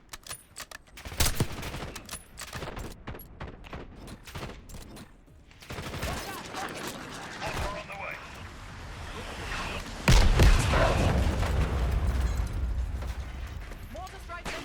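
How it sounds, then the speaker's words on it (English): Mortar strike explosions in Call of Duty Black Ops 6 boom through a busy firefight, one heavy low blast standing out and rolling on, amid scattered gunfire and voices. "Mortar strike makes short work of that situation."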